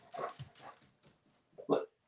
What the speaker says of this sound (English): now my dog's gonna bark.